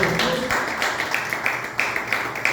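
A church congregation claps for the Lord during a Good Friday afternoon service, a steady dense wash of applause with rhythmic accents running throughout, close and fairly loud.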